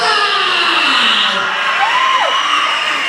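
An audience erupts in loud, continuous cheering and shouting, a wash of many voices with whoops rising above the crowd noise throughout.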